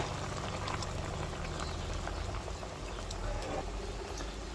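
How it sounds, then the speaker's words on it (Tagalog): Steady watery rushing and bubbling as hot water is poured into a pan of pork belly adobo, continuous and fairly close with a faint low rumble underneath. "lagyan na natin ng mainit na tubig."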